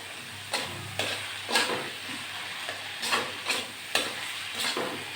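Bottle gourd fries with garlic in a pan, a soft continuous sizzle broken by about eight rhythmic scraping stirs of a spatula, close and fairly quiet.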